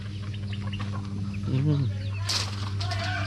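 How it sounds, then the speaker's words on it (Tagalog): Native Bisaya chickens cluck close by among outdoor farmyard noise during a village fiesta in the Philippines, with a brief higher bird call partway through. "Mga manok Bisaya."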